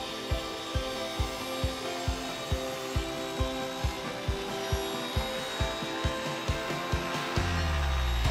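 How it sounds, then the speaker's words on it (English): A saw rips a 3/4-inch plywood sheet into strips for a gymnastics springboard, a steady motor drone with a regular rhythmic thump about every third of a second, close and continuous for eight seconds before the cut ends. "I begin by ripping 2 6-inch strips from a piece of 3/4-inch plywood."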